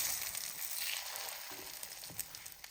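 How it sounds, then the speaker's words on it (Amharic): Egg-dipped bread slices frying in a little oil in a hot pan, a steady close sizzle with a faint clink near the end and no talk. "ዘይት አድርገን በጋለ መጥበሻ ላይ እንጠብሰዋለን።"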